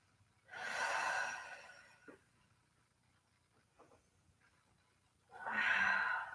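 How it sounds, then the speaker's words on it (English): Two long, audible breaths taken during a mat exercise class, a drawn-out airy exhale near the start and another about five seconds later, with faint small breathy sounds in the quiet between them. "And nice big deep breaths."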